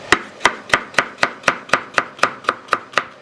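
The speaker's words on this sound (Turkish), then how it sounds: "Soymuş havuçları da direkt ortadan ikiye bölüp ince ince doğrayacağız." A knife chops carrots steadily on a cutting board, about a dozen crisp, evenly spaced thuds in a quick rhythm, close and clear with no talking.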